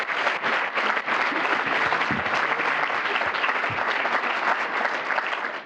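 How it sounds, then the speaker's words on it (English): Audience applause for Congressman Joe Courtney of Connecticut's 2nd District, a dense, steady round of clapping that fills the room for several seconds, with a few stray voices faintly underneath. "give another round of applause to our congressman"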